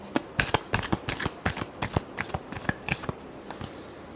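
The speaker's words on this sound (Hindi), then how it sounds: "last shuffle" Tarot cards are shuffled close by in a rapid, irregular run of crisp riffling flutters and snaps, steady throughout with no talking.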